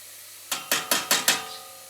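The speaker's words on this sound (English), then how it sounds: "now he's just going to mix it" A utensil scrapes and clinks against a pan while Maggi noodles are stirred, five quick evenly spaced metallic strokes close by, with a faint sizzle underneath.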